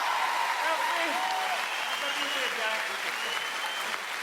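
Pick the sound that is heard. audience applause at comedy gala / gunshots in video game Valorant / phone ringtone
audience applause at comedy gala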